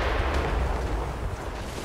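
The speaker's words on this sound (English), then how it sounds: "Ready those mortars, Shay." Ship mortars firing in a naval video game battle make a dense, continuous boom and rumble, loud and heavy in the low end with no clear separation between blasts.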